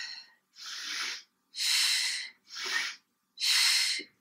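Slow paced breathing during a Pilates warm-up: five separate breaths, in through the nose and out through the mouth, each a soft close airy rush broken by clear pauses.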